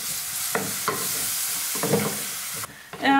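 Coconut paste goes into a hot pan for okra pulisseri, a Kerala yogurt curry, giving a close, steady sizzle broken by several scraping stirs of a spoon.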